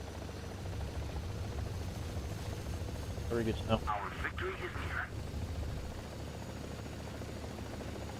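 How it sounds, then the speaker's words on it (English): A friendly helicopter's rotor drones low and steady in the War Thunder tank battle, a constant background hum while someone talks over it. "Oh, that's a friendly helicopter."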